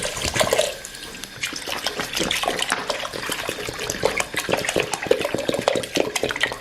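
About 1.5 to 2 litres of water pours and splashes into a pressure cooker pot of beef nihari in a continuous gushing stream, close and fairly loud, with clattering bursts as it fills.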